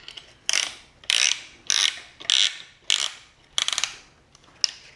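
A ratchet wrench tightening a piston ring compressor band during engine assembly, six or seven sharp bursts of rapid metallic clicking, each about half a second long, close and loud, separated by brief pauses.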